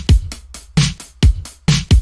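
Synthetic drum loop in FL Studio run through Fruity Blood Overdrive: punchy distorted kicks alternating with crunchy snare-like hits in a tight repeating pattern, loud and close with no voices.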